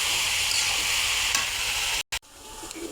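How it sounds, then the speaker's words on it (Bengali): Bitter gourd (karela) frying in a pan, giving a steady, dense sizzle and hiss close by that cuts out briefly near the end, then returns more quietly. "আর করলা ভাজি হচ্ছে"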